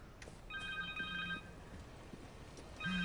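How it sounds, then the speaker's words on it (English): A cell phone rings in the Spider-Man 2 video game, a repeated electronic ring tone sounding in two bursts, the second cut short, over quiet game background. "Connor's cell phone."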